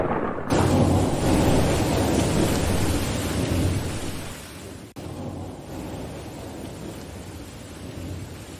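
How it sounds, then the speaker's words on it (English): A thunderstorm brings heavy rain hissing down continuously, with a low thunder rumble underneath and a sharp break partway through before the downpour carries on. "I thought you said it wasn't supposed to rain."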